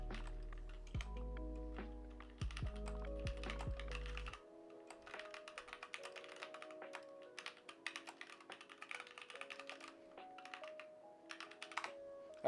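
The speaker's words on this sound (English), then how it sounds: "Yeah, I type so slow." Someone types slowly on a computer keyboard, a string of light, uneven key clicks in irregular bursts with soft tonal music playing faintly underneath.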